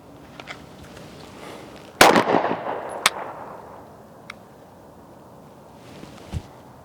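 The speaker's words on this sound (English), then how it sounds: "and then we're gonna do a follow-up shot on an empty." A SIG P365 pistol firing during a concealed carry drill: one loud close shot with a ringing echo, a quicker follow-up shot about a second later, then quieter clicks and handling.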